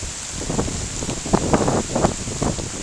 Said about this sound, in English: Is that wind picking up a little bit again?